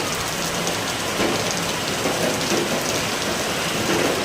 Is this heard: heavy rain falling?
yes